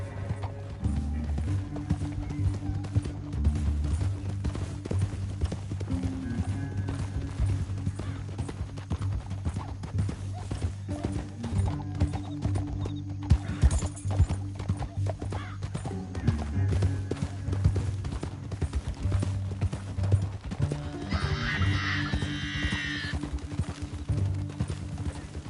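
Horses in Red Dead Redemption 2 gallop with rapid, continuous hoofbeats over a steady game music bed, a brief whinny rising near the end, with faint voices at times.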